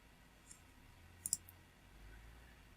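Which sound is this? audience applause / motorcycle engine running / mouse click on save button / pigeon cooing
mouse click on save button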